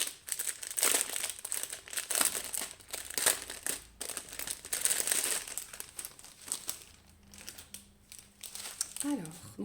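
Plastic packets of diamond painting rhinestones being opened, close crinkling and rustling in bursts that fades near the end, as a voice speaks over it.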